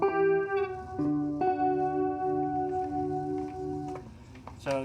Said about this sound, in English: I'll show you with the chorus on what that sounds like.